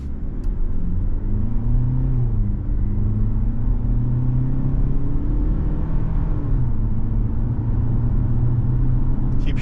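A 2024 Hyundai Tucson Limited AWD accelerates steadily, its engine note rising and falling as it works through gears, a continuous loud close rumble with no talk.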